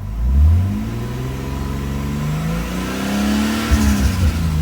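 An RB20 engine in a Nissan 240SX S14 revs up close, climbing and holding a loud drone, then a few sharp exhaust pops crackle near the end.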